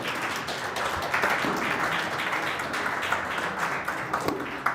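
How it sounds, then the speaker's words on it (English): An audience claps steadily in sustained applause at a launch event for an AI and robotics research and training center, a dense, moderately loud patter with no clear talk. "Please, a round of applause again for the director."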